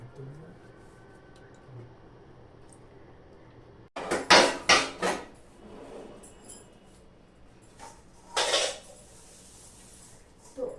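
Freshly washed kitchen dishes, pots and utensils being stacked and put away in a home kitchen: sharp clattering clinks come in a dense burst, then a second shorter burst, over quiet room background.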